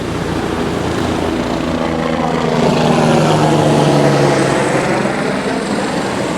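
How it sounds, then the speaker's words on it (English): A loud surf rescue helicopter roars overhead along a beach coast, its rotor drone swelling steadily as it passes close by, with no voices. "Comes the surf rescue helicopter."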